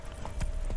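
Hooves of Geralt's horse Roach in The Witcher 3, a couple of soft clip-clop thuds under steady game ambience, brief and low in the mix.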